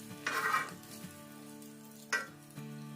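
Egg frying in a pan while a breakfast sandwich is prepared, giving a steady sizzle that swells loudly early on and then settles into a quieter crackle, with a couple of brief utensil knocks later.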